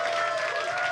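Studio audience applause at a comedy talk show holiday special, a brief steady wash of clapping, fairly faint and even throughout.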